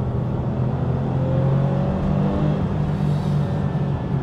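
A Gunther Werks Porsche 993 restomod with a naturally aspirated engine, heard up close from inside as the revs rise and shift through a gear change, a steady loud engine drone with climbing tones and no talking.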